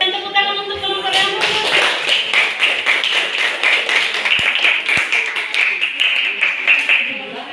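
Students applauding a group in a classroom, a burst of many hands clapping in quick, irregular rhythm, loud and close, continuing for several seconds.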